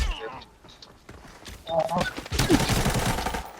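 Rapid bursts of gunfire in Arena Breakout crackle under excited talking, louder toward the end as shots run together.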